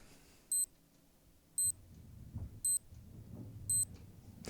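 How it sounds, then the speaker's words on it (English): A Casio G-Shock GW-BX5600 digital watch alarm beeps sharply about once per second, four high, quiet chirps over faint room noise. "when the alarm goes off, it will go for 20 seconds"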